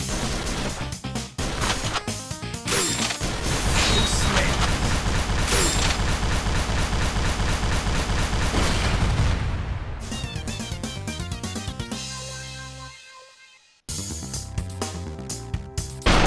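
Rapid, dense gunfire and explosions from the run-and-gun video game Mercenary Kings, a loud continuous barrage with game music that thins out, drops to near silence briefly, then resumes.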